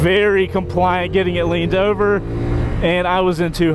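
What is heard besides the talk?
No everyday noises stand out.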